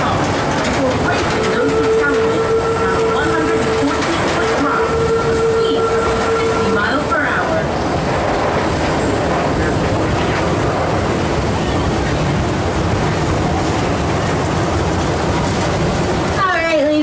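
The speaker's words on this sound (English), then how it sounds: "remain seated until the train has come to a full complete stop" A Busch Gardens park train runs steadily on its rails with a loud, continuous rumble and rhythmic clatter, a sustained whistle-like tone in the first part, and occasional voices over the running noise.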